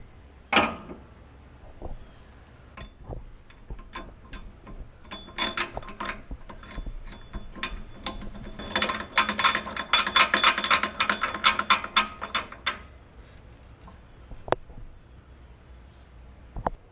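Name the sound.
ratchet removing a bolt from a Scion xB coilover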